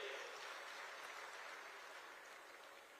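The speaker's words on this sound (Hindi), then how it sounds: "जोरदार तालियां बजा करके इनका भी स्वागत करिए।" A large crowd at a Haryana political gathering applauds to welcome a BJP state party president, a broad, even wash of clapping heard from a distance, fairly faint and sustained throughout.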